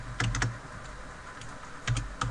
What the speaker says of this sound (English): We type in baseball